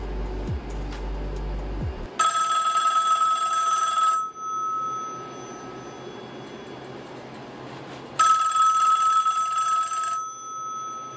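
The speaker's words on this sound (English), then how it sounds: "I'm gonna go ahead and call this landline real quick so you all can get a good example of what it sounds like" An old landline telephone bell ringing indoors in a home server room, two loud metallic ringing bursts about two seconds long, separated by a long quiet pause with faint background hum.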